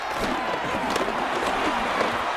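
Home crowd in the Madden NFL 26 football game, Buccaneers at Steelers preseason match, roaring and cheering in a steady stadium swell with scattered claps, dense and continuous throughout.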